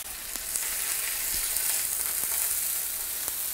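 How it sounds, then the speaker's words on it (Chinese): Chicken thigh steak sizzles steadily in a frying pan, a dense continuous crackle with a few small pops, close and even throughout with no voices. "翻面之后让它再煎一下，两面都给它煎到焦香，然后煎熟。"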